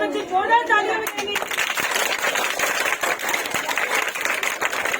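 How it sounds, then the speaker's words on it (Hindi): Children applauding loudly at a National Science Day school event in Dehradun, a dense burst of clapping that starts after a spoken line and continues steadily, fairly close, with a voice heard briefly at the start. "सभी बच्चे जोरदार तालियां बजाएंगे।"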